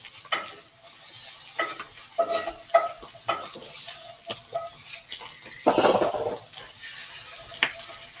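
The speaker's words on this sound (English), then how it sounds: "Sizzling fats know when you're afraid of them, and they will burn you." Chicken sizzles in hot fat in a pan, a steady frying crackle broken by repeated scrapes and stirs close by, with no talk.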